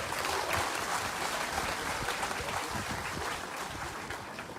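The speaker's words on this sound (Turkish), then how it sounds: "Sizler de büyük bir alkış bekliyorum inşallah." Crowd applauding at the ribbon-cutting opening of a new town square in Geyve, steady dense clapping that stays loud and even throughout with no voices over it.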